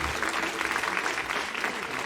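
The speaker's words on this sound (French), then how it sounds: "Applaudissements." Applause from an audience at a Christian worship concert, steady dense clapping filling the short stretch without a break, fairly loud and close.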